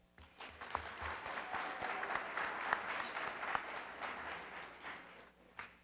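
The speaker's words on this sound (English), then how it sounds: "Clap it up, clap it up." Audience applause at a college parent and student night, steady clapping from a crowd sustained for several seconds, with a few sharper individual claps standing out before it fades.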